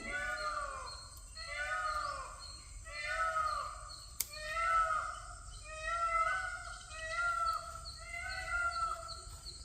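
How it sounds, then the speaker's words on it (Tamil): A peacock calls repeatedly after rain, loud, far-carrying cries coming in a regular series of bursts at moderate distance, with a light outdoor background. "லாஸ்ட் டைம் ஒரு மழை வந்ததும் பார்த்தீங்கன்னா அடிக்கடிங்க மயில் கத்திக்கிட்டே இருக்கு"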